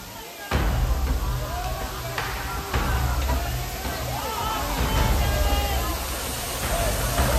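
Rushing water of Bada Aapkhol waterfall in Odisha fills the scene with a steady broadband roar, close and loud, while people talk over it and occasional knocks and shouts cut through.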